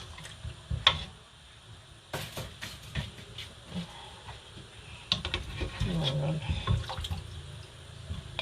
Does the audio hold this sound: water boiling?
yes